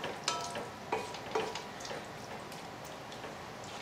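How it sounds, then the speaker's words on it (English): A utensil stirs serrano sauce through fettuccine in a hot pan, faint sizzling under a few soft scraping taps at irregular intervals, close by with no voices. "Now we'll go ahead and stir it"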